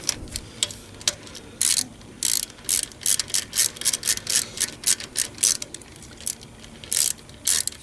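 A socket ratchet tightening a bolt on the 2.0T engine of a 2013 Cadillac ATS, crisp rapid clicking strokes in uneven bursts, close and clear with no talk.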